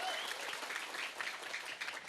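An audience at a community youth gathering claps in a dense, sustained wash of applause that carries evenly throughout, with faint voices mixed into the crowd noise.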